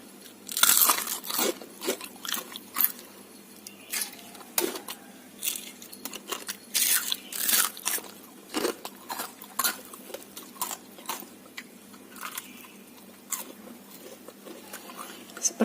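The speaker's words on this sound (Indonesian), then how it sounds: "Ini aku coba makan satu dan gigit cabai." Someone bites and chews fried gorengan snacks with a chili pepper, close and loud crunches in irregular bursts, with occasional clinks of dishes and cutlery.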